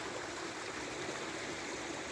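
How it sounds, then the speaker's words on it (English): Water of Jameson Creek flowing steadily beside a pond garden, a continuous broadband rushing and trickling that holds even and fairly loud throughout, with no voices. "This is Jameson Creek coming out here."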